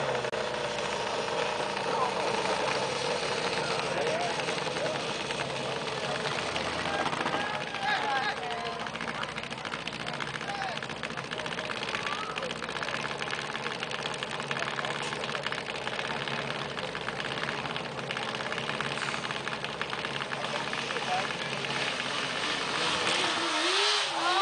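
A racing lawn mower engine held at full throttle, a loud continuous high-pitched drone that stays nearly constant for the whole stretch, with excited voices shouting over it.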